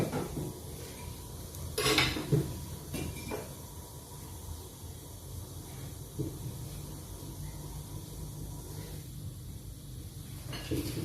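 Resin and lemongrass pour into a cooking pot for a herbal extract, with close clattering of the pot and utensils, one sharp clank near the start and a few lighter knocks later over a faint hiss.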